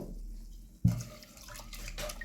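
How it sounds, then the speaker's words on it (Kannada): Water runs over toor dal being washed in a kitchen, starting with one sudden splash and then a quiet, continuous trickle and slosh, close but faint, with no talking. "ತೊಗರಿಬೇಳೆಗೆ ಸ್ವಲ್ಪ ನೀರು ಹಾಕಿ ತೊಳ್ಕೊತೀನಿ ರೀ."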